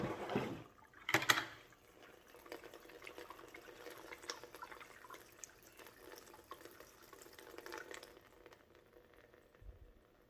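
Water running through fingers into a Lot-O rock tumbler barrel holding stones and polishing media, a burbling, splashing stream that starts with a louder gush and then settles into a steady trickle.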